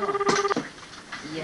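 A telephone line gives a short, clear electronic tone for about half a second, part of a daily check-in call from a care home to an elderly person living alone in Japan. A brief murmur and faint room noise follow.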